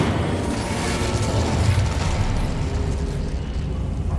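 The Incendio fire spell in Hogwarts Legacy gives a loud, continuous roaring whoosh of flame with crackling bursts and a low rumble. It holds steady and close for about four seconds.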